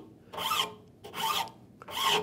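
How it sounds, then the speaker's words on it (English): Three rough rasping strokes of a hand file scraping across a wooden saw handle, each about half a second, evenly spaced with brief pauses between them. "I've got my file going over the top and working around"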